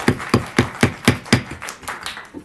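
Roughly ten claps of applause sound in a council chamber, a brief sparse patter that fades within a couple of seconds, close and fairly loud.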